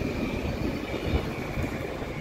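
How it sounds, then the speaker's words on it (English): A passing train heard at a steady middle distance, a continuous low rumble with a faint high whine from the wheels running through it, no voices. "The train."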